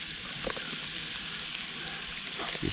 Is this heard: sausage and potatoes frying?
yes